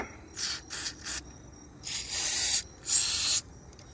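Several short hissing bursts of an aerosol cleaner spraying a sensor on a 2001 Mazda B3000 pickup, three quick puffs followed by two longer sprays, close and fairly loud.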